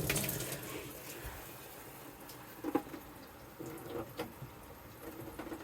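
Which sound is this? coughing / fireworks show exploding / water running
water running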